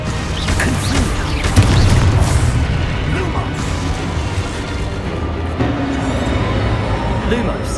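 A Confringo blasting spell explodes in the Hogwarts Legacy video game, a loud deep boom with rumbling burst and crash debris that lingers under busy game sound, with a voice calling out.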